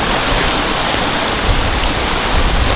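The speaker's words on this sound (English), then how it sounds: "I gotta run though because it's raining." Steady rain falling outdoors on an archery course near a stream, a loud, dense, even hiss of drops that lasts the whole stretch with no voices.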